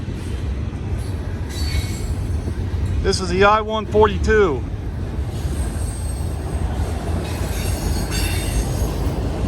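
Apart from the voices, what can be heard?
CSX or Norfolk Southern freight train passing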